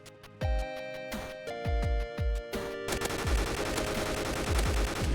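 Rapid bursts of gunfire from a multiplayer shooter game built in Unity, with sharp repeated shots, a few separate volleys, then a dense continuous barrage under a ringing tonal backdrop; no speech.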